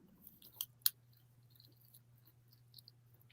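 Brand-new sneakers with crunchy foam are squeezed close up, giving quiet crackling crunches with a couple of sharper snaps, over a low steady background hum.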